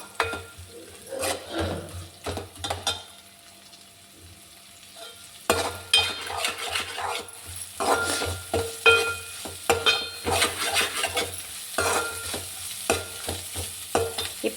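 Ginger garlic paste sizzles and fries in a pan for a cauliflower curry, with steady stirring scrapes from a utensil. The sizzle is close and continuous apart from a brief lull early on.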